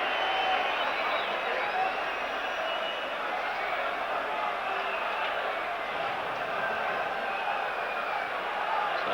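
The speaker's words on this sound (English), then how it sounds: "it brings some applause from Andy Gorham" Football stadium crowd at a 1992-93 UEFA Champions League match between Club Brugge and Rangers FC, a steady broad roar with faint applause and cheering that holds evenly throughout, distant and continuous.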